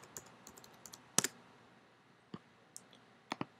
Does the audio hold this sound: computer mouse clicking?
yes